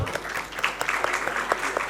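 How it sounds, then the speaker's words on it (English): A crowd at a conference awards announcement applauds a third-place team, giving a short burst of scattered, moderately loud hand claps with individual sharp slaps standing out. "A big round of applause"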